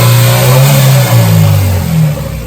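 A Honda Civic EK with a B16A engine revs loud and close, climbing and settling in repeated throttle blips for a few seconds with no talk over it.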